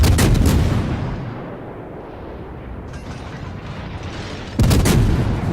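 Warship main guns in the video game World of Warships firing in heavy booming salvos, a loud volley at the start and another near the end with a rumbling sea-battle roar between them.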